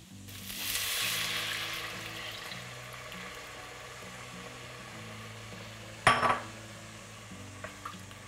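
Coconut-milk mixture with kumara cooking in a pan on medium heat, a soft steady sizzle with a brief utensil clatter near the end.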